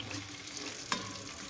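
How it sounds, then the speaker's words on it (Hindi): Masala fries in a pan on a low flame and is stirred with a spoon, giving a soft continuous sizzle with one sharp scrape or clink of the spoon partway through. "लो फ्लेम पे हम इसकी भुनाई करते रहेंगे, चम्मच चलाते रहेंगे और इसकी भुनाई करते रहेंगे"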